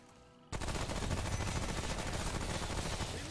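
SMG fire in Remnant From The Ashes: after a short quiet lead-in, a loud, unbroken automatic burst runs continuously to the end.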